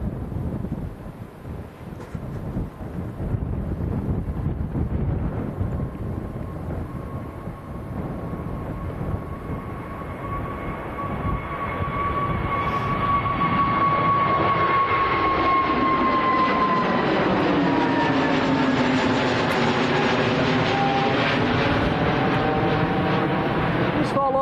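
An EasyJet airliner taxis at Manchester Airport, a loud, continuous engine roar with a rising whine that swells and shifts as it passes, heard outdoors under steady wind buffeting.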